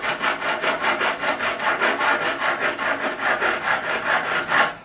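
A hand file rasps across the frets of a Fender Standard Stratocaster during a refret, in steady back-and-forth strokes about five per second. The scraping is close, loud and continuous, with no voices.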